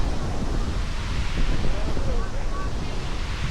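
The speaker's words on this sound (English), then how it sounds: "Behind me is the most incredible waterfall I've ever seen in my life." A waterfall in Iceland gives a steady roar of rushing water with strong wind buffeting the microphone, constant and loud throughout.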